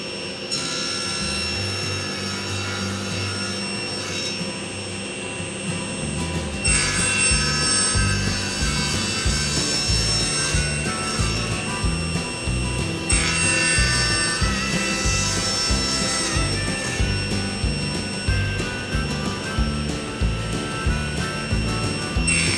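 A miter saw whines continuously, its pitch shifting as it bites into wood in several long passes, loud and close with no talking.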